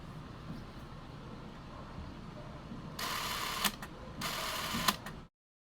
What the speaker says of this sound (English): here's the shutter at 18 frames per second